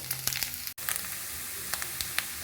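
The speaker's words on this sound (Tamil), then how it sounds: "அதனால் நான் கொஞ்சம் எண்ணெய் விட்டு வறுத்துக்கிறேன்." Grated coconut frying in a little coconut oil in a pan gives a steady close sizzle with occasional crackles and pops, running continuously without talk.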